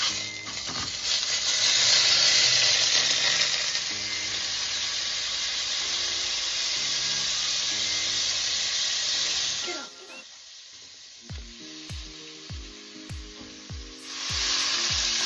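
Butter melting in a pot on a stove top, a steady loud sizzle and hiss that holds for about ten seconds, then drops to a quieter crackle with a few small knocks before the sizzle swells again.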